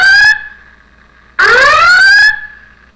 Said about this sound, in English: assign the alarm sound, and select the specific wave that you want. So for now, we're going to select the alarm,